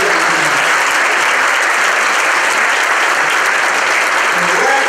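A conference audience gives loud, continuous applause for a high school jazz band, a dense steady roar of clapping with a voice faintly underneath.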